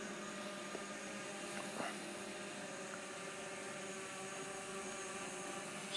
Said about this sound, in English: Got to learn how to fly this drone again.